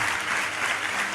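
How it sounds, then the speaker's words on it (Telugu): Steady applause from an audience at a Christian gathering, dense and continuous throughout without pauses, clapping filling the space at moderate distance with no voices standing out. "మీరు చప్పట్లు కొడుతూనే ఉండండి"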